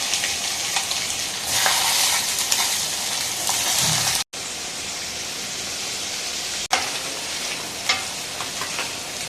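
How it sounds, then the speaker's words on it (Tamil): Paneer cubes fry in butter in a pan with a steady, dense sizzle and crackle that runs the whole time, briefly cutting out and then resuming at the same level. "ஒரு பாத்திரத்தில் பட்டர் போட்டு அதில் இந்த பன்னீரெல்லாம் கொஞ்சம் ஸ்கொயர் ஷேப்பில் போட்டு நம்ம இதை பொறிச்சு எடுத்துக்கோம்"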